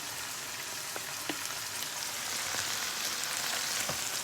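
Steady, dense sizzling of food frying in hot oil fills the clip, with occasional small pops and crackles and no voices.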